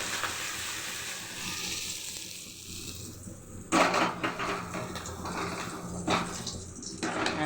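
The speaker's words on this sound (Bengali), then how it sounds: "এখন ফোড়নে দিচ্ছি।" Spices sizzle in hot oil as a tempering for lentils cooked with drumstick leaves, a steady close frying hiss that jumps louder around the middle as more goes into the pan, with stirring clatter after.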